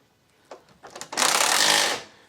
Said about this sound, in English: this is a very lightweight impact drill